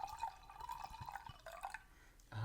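Winking Owl Sangria wine being poured into a glass, a soft steady liquid trickle with small drips, quiet and close, with no talking over it.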